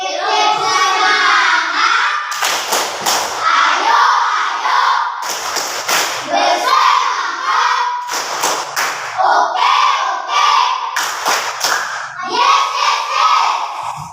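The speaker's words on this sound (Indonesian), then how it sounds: "Boleh tepuk semangat?" Schoolchildren in an Indonesian classroom perform a rhythmic spirit clap, bursts of sharp group claps alternating with chanted shouting in a repeating pattern, loud and close.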